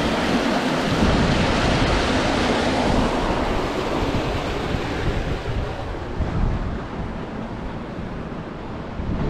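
Water flows along the North Crimean Canal, a loud, steady broadband rush with wind buffeting the microphone, continuous and without voices.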